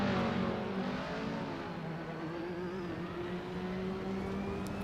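A game car in Assetto Corsa accelerates hard down a long straight, engine note rising steadily in a smooth, sustained whine. The car sounds loud at first, then settles into a continuous high-revving drone with no talk.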